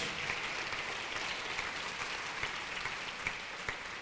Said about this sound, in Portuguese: Você pode aplaudir ao Senhor bem forte.